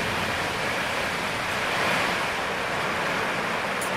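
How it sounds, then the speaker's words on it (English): Heavy wind and rain on a very windy day outdoors while a Toyota RAV4 crankshaft main bearing clearance is being checked, heard as a steady loud broadband roar of gusts and rainfall with no talking. "sorry about all the rain, it's a really, really windy day today."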